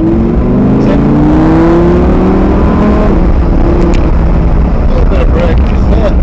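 A Lamborghini Huracan laps Kirkbride Airfield, its engine loud and close with a droning note that climbs and falls under acceleration, while people talk inside the car over it.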